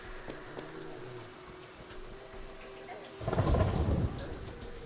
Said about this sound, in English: Can't really hear me over the thunderstorm.